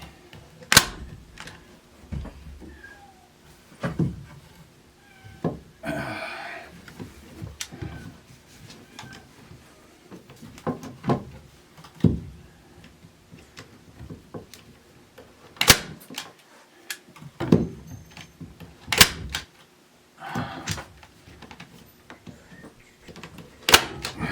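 A staple gun fires staples into a chroma key backdrop on a wall, giving repeated sharp snapping thuds at irregular intervals amid handling and rustling noise.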